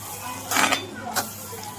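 A utensil stirs turmeric, coriander powder, cumin powder and garam masala in a cooking pan for a crab-claw meat bhurji, giving two brief scraping clinks over a soft background hum.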